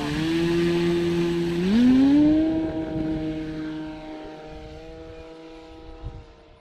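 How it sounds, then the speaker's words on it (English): A Flex Innovations Cessna 170 RC model airplane drones steadily overhead, its electric motor whine rising in pitch around two seconds in, then holding a sustained tone that fades slightly as the plane moves away. "First up today is the QK Flex Innovation Cessna 170."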